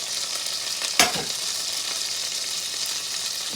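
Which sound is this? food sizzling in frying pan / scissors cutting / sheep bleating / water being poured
food sizzling in frying pan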